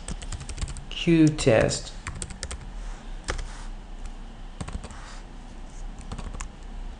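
A command typed on a computer keyboard into a Tcl shell: a quick run of soft, close key taps in short bursts, fairly faint, with someone speaking over part of it.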